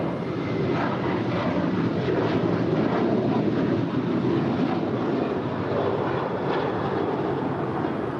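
An American Airlines Boeing 737-800 jet at LAX gives a steady, broad engine roar that holds evenly throughout, loud and continuous with no voices.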